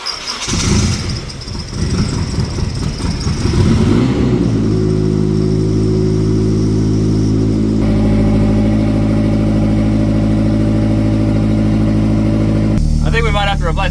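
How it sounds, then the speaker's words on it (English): An SR20-engined KE70 drift car with a worn alternator pulley or bearing idles up close, a steady droning hum with a whining undertone, preceded by a few seconds of louder rough engine noise. "It does still make a weird noise, but I did confirm that our alternator pulley or bearing is toast."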